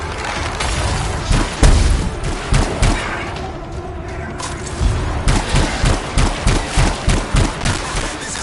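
Rapid bursts of gunfire from a suit-mounted weapon in the video game Anthem, loud and close, with a heavy boom early on and then a steady run of regular shots.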